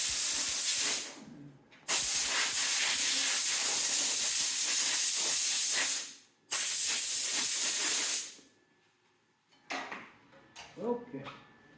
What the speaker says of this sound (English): I'm going to have the dust collector on and the air compressor going and my dust hood on